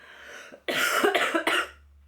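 A person coughs a few times in a quick, harsh burst, close by, followed by quiet.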